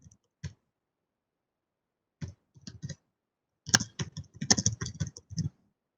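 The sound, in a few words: typing on a computer keyboard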